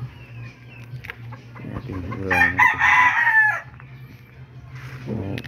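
A pet rooster with a cold crows loudly and clearly for about a second and a half. Hens cluck around it, with a steady low hum in the background and a brief spoken word near the end.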